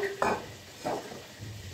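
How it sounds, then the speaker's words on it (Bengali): Meat for a roast frying in a pan with a low sizzle, broken by two or three scraping stirs of a utensil against the pan. "ওইদিকে মাংসগুলো ভাজা হোক"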